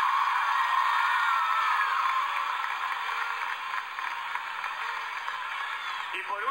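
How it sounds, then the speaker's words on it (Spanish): A crowd at a town celebration applauds a group of 23 honorees, producing a loud, dense, sustained wash of clapping that holds steady and eases slightly toward the end. "regalarnos un fuerte aplauso"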